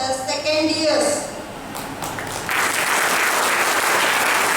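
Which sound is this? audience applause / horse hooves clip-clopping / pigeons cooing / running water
audience applause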